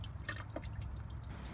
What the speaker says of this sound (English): Shake it just a bit to get some of the other water out.